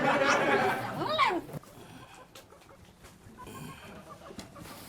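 A chicken clucks and squawks loudly at first, then quieter farmyard noise continues with faint background chatter.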